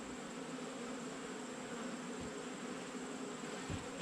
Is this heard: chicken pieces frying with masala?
no